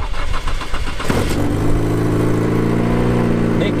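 A car engine cranks and catches, then settles into a steady, loud idle, running with WD-40 in place of engine oil.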